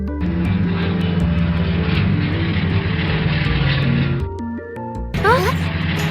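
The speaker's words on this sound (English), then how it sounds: "A toy airplane starts to operate." A toy airplane in a Peppa Pig cartoon starts up with a steady, loud engine drone under a music bed, then cuts briefly before a burst of whooshing, chirping effects.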